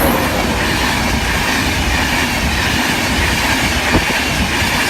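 A train rolls slowly through the Church Lane level crossing, a loud, continuous close-up rumble of wheels on rails with a faint clickety-clack running through it and no voices.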